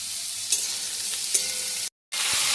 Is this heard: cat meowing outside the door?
no